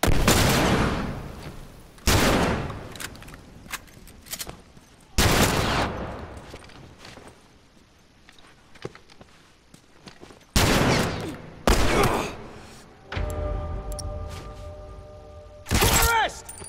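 Loud bursts of rifle fire and impacts in The Last of Us Remastered come in separate volleys with quieter gaps between them, and voices can be heard in the background.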